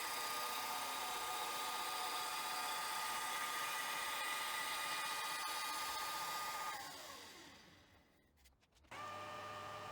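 A woodworking lathe turns a length of square timber down into a round cylinder, giving a steady loud whirring drone with a rough cutting hiss that winds down near the end before the motor hum resumes.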